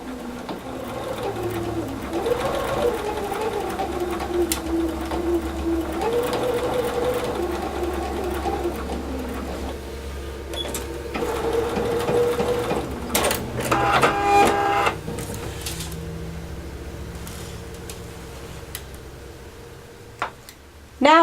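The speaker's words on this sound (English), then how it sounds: "Now we got our placket sewn on" A sewing machine stitches a placket onto a military mess dress shirt, running in steady bursts with brief pauses, fairly close and alone with no talk.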